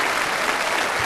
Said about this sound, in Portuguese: Vamos dar uma salva de palmas para Dom Irineu